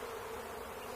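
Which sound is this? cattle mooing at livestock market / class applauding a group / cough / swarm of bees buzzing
swarm of bees buzzing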